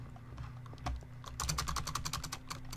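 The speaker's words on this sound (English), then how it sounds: "Who's typing right now?" Rapid clicking of computer keyboard typing during a Minecraft UHC session, sparse taps at first, then a dense, steady burst of keystrokes for the last half, close and fairly loud, with no talking.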